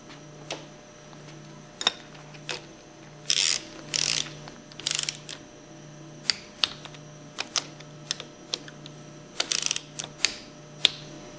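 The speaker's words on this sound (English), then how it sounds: "Reinstall the end cover bolts and torque them between 100 and 110 inch-pounds." Torque wrench clicking as it tightens the end cover bolts on a Hypro 2400 series plunger pump held in a vise; a run of sharp, close ratchet clicks in short bursts, with louder grinding bursts midway, and no talking.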